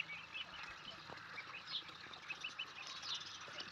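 Twenty ducklings by a small dug pond give faint, high, scattered peeps and quacks that overlap in an irregular chatter, with no talking.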